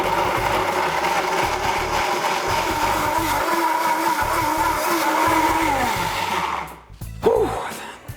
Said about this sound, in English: now we're gonna blend for about 20 to 30 seconds until we have a super smooth, whippy, creamy, yummy, decadent consistency